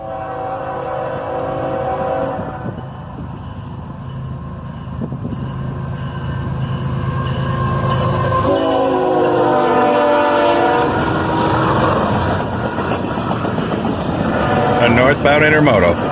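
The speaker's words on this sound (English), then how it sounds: "Northbound intermodal, led by an ES44 ACH." A northbound CSX intermodal freight train led by an ES44AC locomotive rumbles loudly nearby, with sustained horn tones sounding over the heavy rolling noise.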